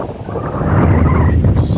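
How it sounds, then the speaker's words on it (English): A cold north wind gusting outdoors, buffeting the microphone in a loud, steady roar that builds slightly over a couple of seconds. "The wind is picking up."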